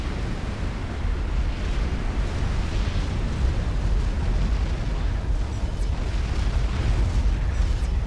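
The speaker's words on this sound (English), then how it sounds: "Man, that's what artillery can do to your base." Artillery shells pound a base in the real-time strategy game Supreme Commander: Forged Alliance, a continuous heavy rumble of overlapping explosions that stays loud and dense throughout, with no talk.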